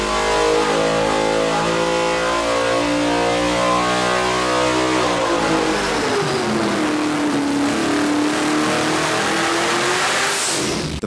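A supercar's 6.6-liter twin-turbo V8 engine revs hard, its pitch climbing and then sweeping down and back up in a loud, sustained roar with no voices.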